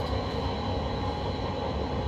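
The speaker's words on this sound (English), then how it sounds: "You'd hear the train through his fucking speaker." A passenger train runs on rails near Ely, heard from on board as a steady, loud, low rumble and rolling rattle that continues without a break.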